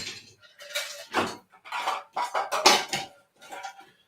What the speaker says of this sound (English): Put ice in.